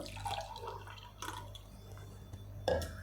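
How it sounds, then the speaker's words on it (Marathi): Buttermilk is poured into a glass, giving a soft, quiet trickle with a few light drips and a faint clink near the end, heard alone. "सर्वप्रथम ग्लासामध्ये ताक घालून घेऊ"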